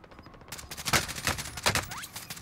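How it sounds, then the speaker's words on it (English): Gunfire in Call of Duty Warzone during a battle royale tournament match: repeated sharp shots in quick irregular bursts, fairly close and moderately loud, with no talk over them. "I'm getting shot from top of the hill"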